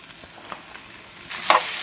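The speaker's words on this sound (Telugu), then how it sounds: "ఈ క్యారెట్ ముక్కలు స్వీట్ కాను చక్కగా కలిసేలాగా ఈ పోపులో కలిసేలాగా అటు ఇటు తిప్పుకుంటూ చక్కగా ఫ్రై చేసుకోవాలి" Sweet corn kernels and carrot pieces frying in a spiced oil tempering, with faint light stirring taps, then a sudden loud close sizzle bursting up and holding to the end.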